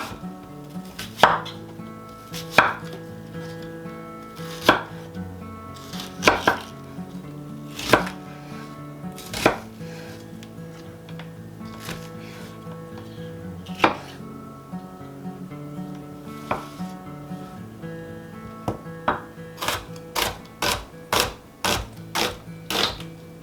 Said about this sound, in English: So I'm going to go ahead and cut them end to end here.